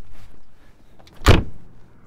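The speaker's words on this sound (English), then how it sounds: "Such a solid shut on that door." Passenger door of a custom-built fire truck for a Canadian fire department slams shut once with a solid, heavy thud, loud and close, standing alone after quiet cabin ambience.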